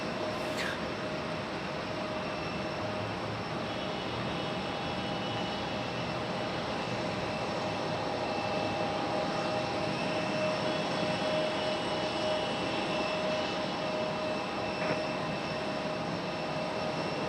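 A jet airliner arriving at Raleigh-Durham airport, a continuous broad engine roar with a thin steady whine, heavy and unbroken throughout.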